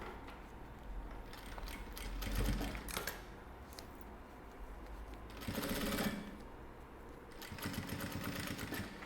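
Sewing machine stitching a fabric glasses case, a steady rapid mechanical whir with rhythmic needle clatter that swells louder in several runs, close and alone.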